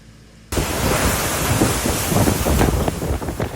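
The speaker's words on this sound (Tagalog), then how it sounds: "Buong araw na malakas ang hangin at ulan sa Kasiguran Aurora dahil sa Bagyong Nika." Loud, steady roar of typhoon wind and heavy rain in Kasiguran, Aurora, bursting in after a short quiet start, with gusting surges and no voices.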